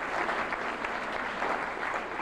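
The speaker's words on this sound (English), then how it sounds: "I'd like a big round of applause." Guests at a service anniversary celebration give a sustained, even round of applause, a dense crowd of clapping hands heard at moderate distance.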